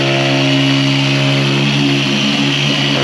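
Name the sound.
power sander sanding boat console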